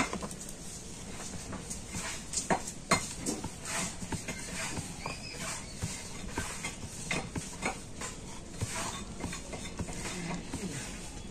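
Flour-dusted dough being rolled out with a rolling pin in a home kitchen, giving soft repeated rolling and knocking sounds with occasional light clacks, close and fairly quiet, no talking.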